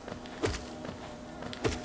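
Bees buzzing in the video game Hollow Knight, a quiet insect drone with two short louder swells, set among soft game ambience, no talk.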